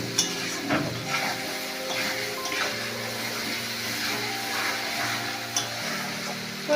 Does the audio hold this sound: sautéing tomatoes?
yes